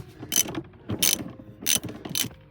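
Hand ratchet working loose a bolt on car parts: four quick clicking ratchet strokes in an even rhythm, close and moderately quiet, with no talk.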